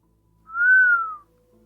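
A person gives one clear, rising-then-falling whistle about a second long, close and alone in a quiet room.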